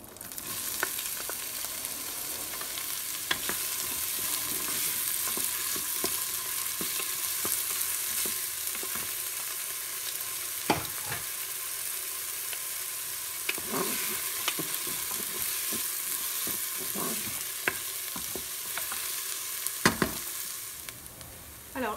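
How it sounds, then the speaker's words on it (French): Onions frying in sunflower oil inside a Cookeo multicooker, a steady close sizzle with occasional stirring clicks and scrapes throughout, no voices. "je vais commencer par mettre un filet d'huile de tournesol pour pouvoir ensuite faire revenir mes oignons"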